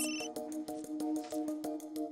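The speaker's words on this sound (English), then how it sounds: "her phone rings" A phone ringing as a workday begins in a Chicago office, with a steady repeating electronic tone that pulses in quick regular beats, loud and close, with no talking.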